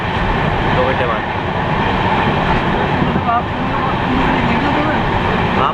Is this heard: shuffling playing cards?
no